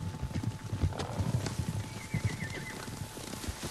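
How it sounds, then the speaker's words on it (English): Horse hooves clip-clop in an uneven rhythm while a horse whinnies in the video game Ghost of Tsushima, with a faint high tone in the background. "Horses, they're coming for us."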